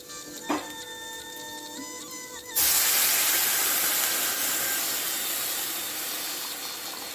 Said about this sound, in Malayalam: ഇനി നമുക്ക് വെള്ളം ചേർത്ത് കൊടുക്കാം